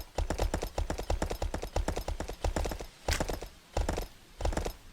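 Horse hooves in the video game Kingdoms, a fast, rhythmic clip-clop of galloping in bursts with short pauses, close and crisp.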